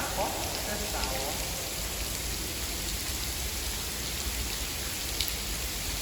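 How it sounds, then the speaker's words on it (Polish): Artificial rain pours steadily in the Rain Room installation at the Sharjah Art Foundation, a dense, even hiss of droplets hitting the floor all around, continuous and fairly loud with no break. "To Rain Room Sharjah Art Foundation, czyli pokój deszczu."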